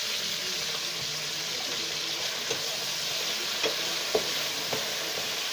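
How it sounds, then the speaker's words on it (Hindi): Spiced potato sticks frying for crispy french fries, a steady hiss of oil with a few sharp pops and stirring clicks near the end, close and continuous without talk. "अब इसमें डालते जाएंगे और हम इसको फ्राई करेंगे।"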